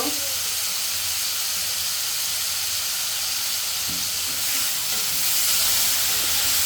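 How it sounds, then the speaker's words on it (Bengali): Potatoes and radish frying with onion in oil: a loud, continuous sizzle and hiss close by, with a few soft stirring knocks throughout. "আর আলুটা আর মূলাটা একটু পেঁয়াজের সাথে বেজে নিব তেলের মধ্যে"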